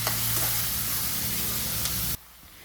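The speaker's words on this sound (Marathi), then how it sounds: "कांदा आपल्याला चांगला परतून घ्यायचा आहे लाल करून घ्यायचा आहे याचा गोल्डन ब्राउनिश करून घ्यायचा आहे" Chopped onions frying in a pan until golden brown for a hotel-style palak bhaji, a loud dense hiss and sizzle running steadily, then abruptly cutting off near the end to near silence.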